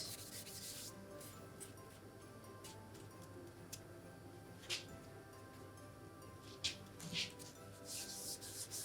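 Icing on a Christmas cake being rubbed smooth by hand, heard as faint, steady soft rubbing strokes with a few brief light scrapes, close and quiet with no talking.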